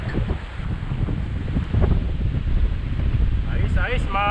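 Strong wind buffets the microphone in a constant low rumble at a fishing spot, with faint water and a voice briefly audible near the end.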